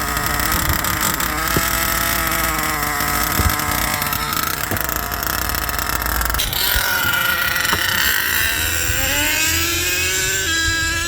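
An HPI Savage RC car with a 3-speed gearbox runs its nitro engine at a loud, high-pitched buzz. The revs climb and shift through the gears in rising sweeps, with sharp blips and throttle changes.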